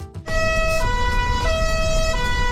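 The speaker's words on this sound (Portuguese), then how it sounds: "O chamado fadó virou uma espécie de apelido cultural para o tom high-low, especialmente quando usado pelas viaturas do Corpo de Bombeiros." Brazilian fire brigade siren sounding the high-low 'fadó' tone, loud and close, two pitches alternating steadily after a brief start.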